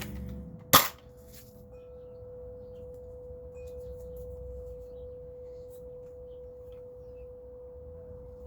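A Nerf Scout MKII blaster fires once with a single sharp pop, followed by a quiet steady hum and no talking.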